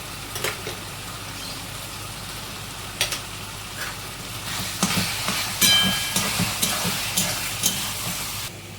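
Onion paste frying in a pan for matar paneer, a steady close sizzle with occasional clinks and stirring scrapes, growing a little busier toward the end, no talk.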